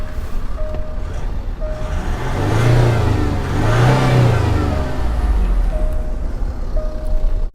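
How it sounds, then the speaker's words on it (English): Range Rover Sport diesel engine revved twice while stationary, each blip a deep rising and falling growl close by, settling back to a steady idle rumble in between and after. "I'll just give you a little rev of the engine to hear it, but it's a diesel"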